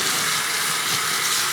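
Cloth diapers rinsed under a running tap, with a steady, close, continuous rush of water splashing into a sink that holds level throughout.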